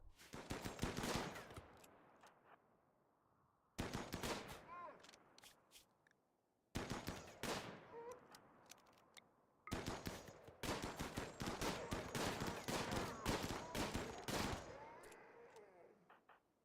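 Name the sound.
gunfire in RimWorld video game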